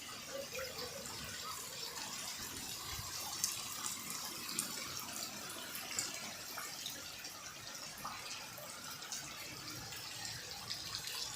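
Water runs steadily from a tap and fills a container at home, a continuous faint gushing hiss throughout.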